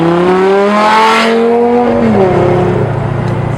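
A 5.2-liter naturally aspirated, odd-firing V10 in a DRVN Monterossa built on a second-generation Lamborghini Gallardo Supertrofeo Stradale, with twin K&N air filters, revs hard up close, its pitch climbing, dipping and swelling again in one loud, continuous blast.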